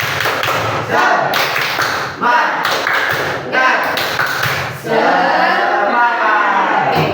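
A classroom of children does the rhythmic 'tepuk semangat' clap routine, with loud patterned bursts of hand claps and thumps alternating with their chanted voices, close and energetic.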